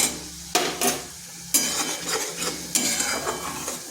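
Okra being stir-fried with mustard masala and turmeric in a pan, a spoon scraping and stirring in several bursts over a steady low sizzle, close and fairly loud, no voices.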